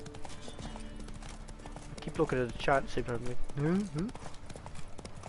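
A horse's hooves clip-clopping in a steady trotting rhythm in the Witcher 3 video game, with a man chatting over the hoofbeats throughout.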